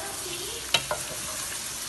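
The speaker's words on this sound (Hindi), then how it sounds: "आप बस ऐसे भिंडी फ्राई करें," Okra fries with onions in a pan, a soft steady sizzle broken by a couple of quick stirring clanks partway through.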